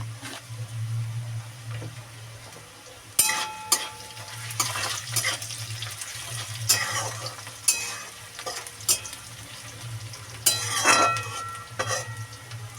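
Sliced onions frying with a little salt in a pan for a soybean ghugni, giving a steady sizzle broken by repeated scraping stirs and clinks of a utensil against the pan.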